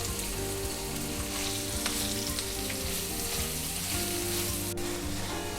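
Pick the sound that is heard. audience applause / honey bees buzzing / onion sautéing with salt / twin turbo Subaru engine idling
onion sautéing with salt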